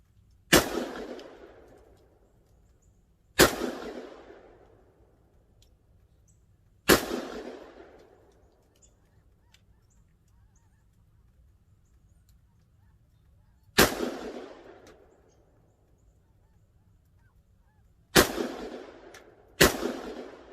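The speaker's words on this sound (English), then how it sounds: "just a test fire here at short range, just to see how it performs" A SIG PE90/550 rifle fires .223 rounds outdoors at short range, six sharp loud cracks at irregular intervals, each trailing off in a brief echo, with quiet between shots and no speech.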